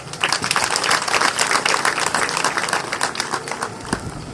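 Parents at a school ceremony give a long, dense round of applause. The clapping is steady and loud throughout and fills the whole stretch, with faint crowd murmur beneath.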